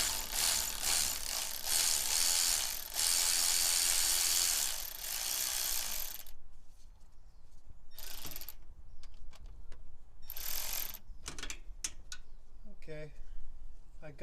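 A ratchet tightens the timing belt tensioner adjuster on a Toyota 5VZ-FE 3.4L V6, with fast loud clicking for about six seconds, then sparser bursts of ratcheting between pauses. A voice talks now and then.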